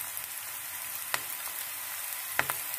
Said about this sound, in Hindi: इसको हम हल्के से फ्राई कर लेंगे।